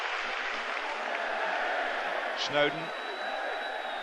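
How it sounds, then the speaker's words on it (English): A football stadium crowd applauds steadily and cheers for an Everton player in the early 1990s, a broad, distant wash of clapping under a commentator's voice. "the crowd give him the kind of reception he deserves for the way he's battled back"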